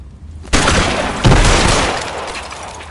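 Gunfire in the video game L.A. Noire: two sharp, loud broadband blasts about a second apart, each trailing into a long noisy decay with no talk.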